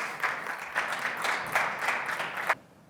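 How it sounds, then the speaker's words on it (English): An audience at a business panel event claps for arriving panelists, a fairly full round of applause at moderate level that stops abruptly near the end, leaving quiet room tone. "Let's give them a round of applause."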